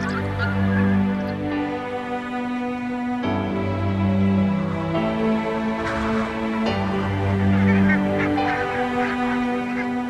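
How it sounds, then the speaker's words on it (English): A flock of barnacle geese honks continuously on migration toward Scotland from the Arctic, layered calls overlapping at steady strength with no voices. "Barnacle geese heading south to Scotland."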